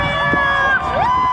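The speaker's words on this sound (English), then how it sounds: "so many from the community cheering her on" Community members and children cheer on a long-distance swimmer, a short burst of crowd noise with excited voices and rising shouts carried over open air.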